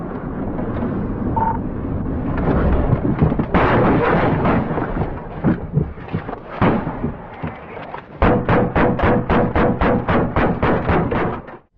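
Gunfire from an ambush at a traffic stop involving an AK-47 and returning deputies: heavy, booming shots with wind noise, then a fast rapid-fire burst of loud cracks near the end.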